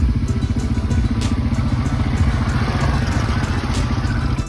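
ATV engine rumbling steadily and loudly throughout an outdoor ride in Bali, with a continuous close mid-pitched drone and rattling clatter and no break.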